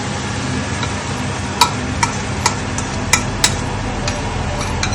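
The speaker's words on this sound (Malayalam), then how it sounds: "അത് ആഡ് ചെയ്തതിന് ശേഷം നന്നായിട്ട് ഇളക്കി കൊടുക്കണം." Green prawns stirred with masala in a sizzling pan, a steady frying hiss broken by several sharp clinks of the spoon against the metal.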